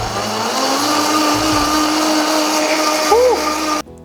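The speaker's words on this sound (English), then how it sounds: "Now it's time to blend it. I've got the new Vitamix." A Vitamix A3000 blender whirs through a protein shake with ice, a loud steady motor hum with shifting pitch as the contents churn, cutting off abruptly at the end.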